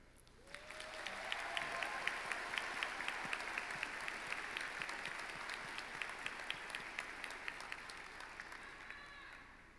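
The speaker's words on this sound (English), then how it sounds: "please give a huge round of applause for all the parents and family" A graduation crowd at a high school commencement ceremony applauds parents and family, a dense, sustained wash of clapping that swells quickly, holds for several seconds, then slowly thins out, with some cheering voices mixed in.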